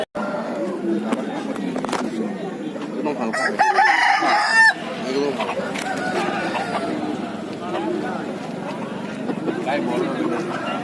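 Chickens at a poultry market crow and cluck repeatedly amid a busy, noisy crowd, with people talking and bargaining close by throughout.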